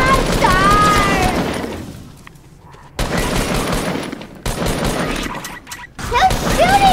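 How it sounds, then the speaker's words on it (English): Loud bursts of gunfire in the Fortnite video game, rapid fusillades in several close clusters broken by short gaps, with in-game effects mixed in. "Who's shooting at me?"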